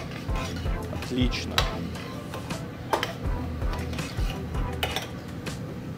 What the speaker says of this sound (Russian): Это все дело перемешиваю.